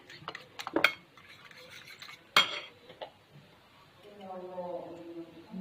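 Eggs are beaten in a bowl with black pepper for a quick chicken and phyllo dish. A utensil clinks and scrapes against the bowl in short bursts, with one sharp clink, and a voice talks alongside.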